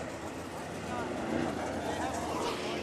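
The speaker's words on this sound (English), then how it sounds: "IMCA Modifieds getting ready to go here at Bakersfield Speedway at Kevin Harvick's Kern Raceway" IMCA Modified race cars rumble in a steady, loud engine drone at Bakersfield Speedway, Kevin Harvick's Kern Raceway, a 3/8-mile dirt track, staging before a heat race, with an announcer talking over the noise.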